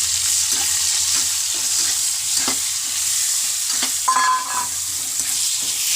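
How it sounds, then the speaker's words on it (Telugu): Chopped onions fry in a pan for egg pulusu, a loud steady hiss of hot oil with a few scattered scrapes and taps of a spoon against the pan. "ఇప్పుడు మేము కట్ చేసుకొని ఉల్లిపాయలు వేసుకోవచ్చు."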